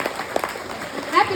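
Brief burst of audience clapping at a Democratic Party headquarters gathering in Brunswick County, a short, dense patter of hands mixed with voices in the room.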